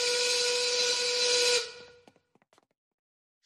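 A loud, sustained 1930s-style factory work steam whistle blows steadily with a hissy, multi-tone blast, then cuts off abruptly, leaving a few faint scattered clicks and near silence.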